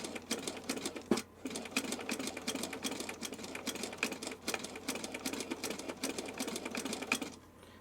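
A sewing machine stitches fabric in a fast, continuous mechanical chatter with a brief pause near the start, heard close and steady with no voices over it.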